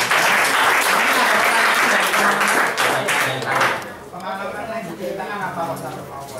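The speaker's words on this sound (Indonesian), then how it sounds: "Aplaus dulu untuk Pak Agus" Loud, dense applause and clapping from an audience for Pak Agus at a talk, lasting about four seconds before fading out as voices take over.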